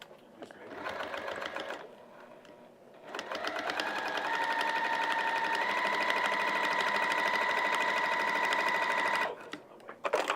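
A sewing machine stitches a vinyl project bag in short bursts, then one long continuous whirring run with a steady rising pitch, close up, with a quiet voice in the gaps.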